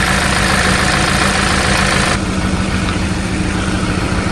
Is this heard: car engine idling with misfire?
yes